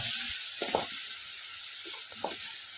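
Eggplant and potatoes sizzling in a pan for vangyache bharit, a steady close hiss of hot oil with a few soft thuds and stirring scrapes mixed in.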